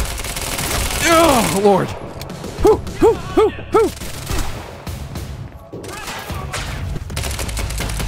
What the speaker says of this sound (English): I can't even really see what I'm shooting at.